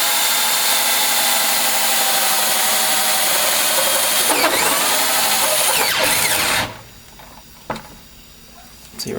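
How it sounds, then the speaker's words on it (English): Power drill boring into wood while building a MAME arcade cabinet control panel, a loud steady whine that runs continuously for several seconds, then cuts out, leaving quiet with a brief short burst afterward. "See right there how powerful the drill is."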